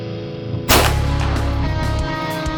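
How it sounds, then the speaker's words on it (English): A single handgun shot fitted with a red dot optic fires at an outdoor range. One loud, sharp report is followed by a lingering rumble and ambient hum. "First shot was about 5 inches low"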